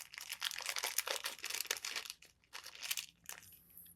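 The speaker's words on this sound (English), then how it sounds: "Let's see what's inside this plastic bag." A plastic bag from a Fenix LD45R flashlight package crinkles and rustles close by in quick bursts as it is opened, with a brief pause before more crinkling.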